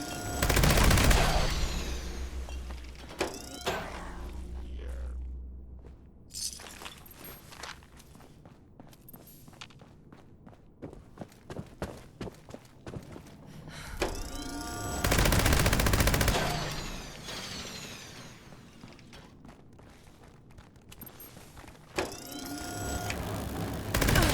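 Bursts of automatic gunfire in Fallout 76, loud rattling volleys at the start, middle and end, broken by quieter stretches of footsteps and scattered clicks.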